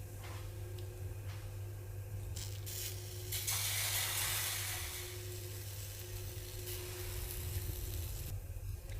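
Samosa potato filling with red chili roasting in a pan, a continuous soft sizzle with light crackle and a brighter hiss swelling midway, no voices.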